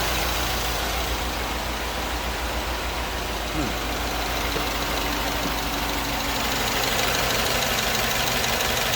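A Chevrolet engine with new AFM lifters idles steadily up close, with a light, rapid lifter ticking running through the low rumble.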